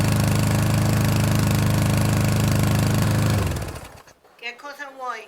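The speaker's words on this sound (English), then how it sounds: "There is Mama mowing the lawn." A lawn mower drones loudly and steadily close by, then its engine cuts out and winds down, and a person starts talking in the quiet that follows.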